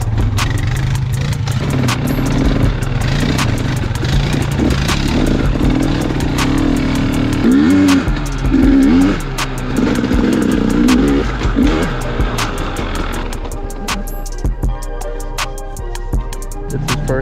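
An ATV engine runs continuously while riding slowly along a trail, a steady close drone with small revs and clattering bumps, alone without talk.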